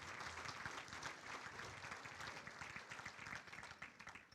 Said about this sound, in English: Would they all please stand and get a nice round of applause for all that they do?